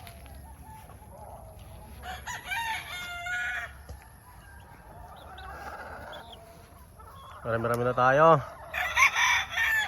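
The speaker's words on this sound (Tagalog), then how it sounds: "Manok." Chickens cluck softly in the background, then a rooster lets out a loud, close crow near the end, with brief speech heard early on.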